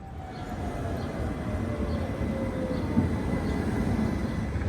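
A tram on line 91 rumbles steadily at a stop in Potsdam, with a low continuous rolling drone and a faint high wheel whine slowly falling in pitch.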